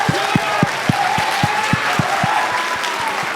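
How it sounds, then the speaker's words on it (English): Classroom applause as a show-of-hands vote for a poem, heard as a rhythmic run of distinct hand claps from a small group, fairly close and steady, thinning out toward the end with a faint murmur underneath. "by a round of applause, we're going to do a little vote"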